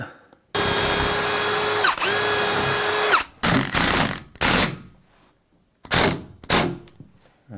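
Up close, a power drill fitted with a larger bit runs hard into a wooden countertop, a long steady whine with a brief dip midway, then several short loud drilling bursts separated by pauses, with no voices.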